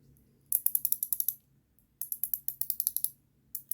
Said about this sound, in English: If that sound makes you feel good right now, trust me, it's better in person.